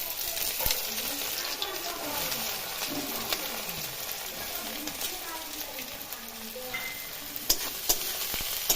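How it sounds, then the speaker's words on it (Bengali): Chopped onion and green chili sizzle and fry in hot oil in a village kitchen, a steady close crackle with occasional stirring clinks, while a person talks over it. "কুচি করা পেঁয়াজ আর লঙ্কাটা আমি দিয়ে দেবো তেলের মধ্যে"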